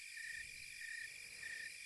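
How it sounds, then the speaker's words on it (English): Steady, shrill cricket chirping pulses continuously through an island-style beat, high and bright over a soft low backing. "Then I've got these crickets"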